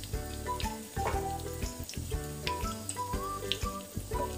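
Pumpkin pieces frying in a little oil in a pan on a medium gas flame, a close, continuous crackle and sizzle with small ticks and a low steady hum underneath, and no voices.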